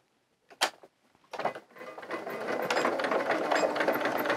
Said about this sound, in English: I'm just going to sew straight across the top here